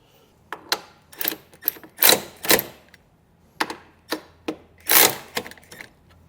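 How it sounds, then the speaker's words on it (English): A ratchet with a 1/2 inch socket snugs down running board bolts on a vehicle, giving short bursts of rapid clicking separated by pauses, close and fairly loud with no talk. "come back with a 1/2 inch socket, and we're just gonna snug down the bolts that are actually holding the running board on"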